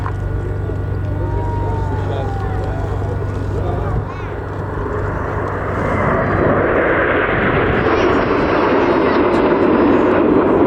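RAF Red Arrows jets fly in formation at an airshow, a distant rising jet roar that swells and broadens across the sky, heard under continuous commentary.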